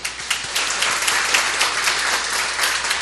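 A church congregation applauds to welcome a newly married couple, steady dense clapping filling the room for the full stretch with no voices on top.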